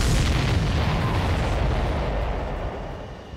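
Explosions in the aerial combat game Ace Combat 7 boom loudly and close, a heavy blast opening the clip and then decaying into a long, fading rumble.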